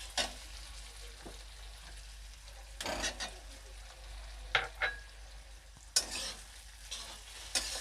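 Egg frying in spiced oil in a pan, with a low steady sizzle broken by several bursts of scraping and stirring, some with sharp metallic clinks.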